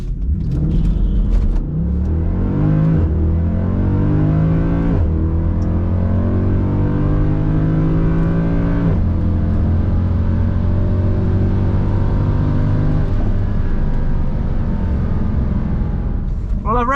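Mercedes C63 AMG launching hard down a drag strip, loud close engine roar climbing through several rising gear pulls with brief dips at each shift, steady and powerful throughout.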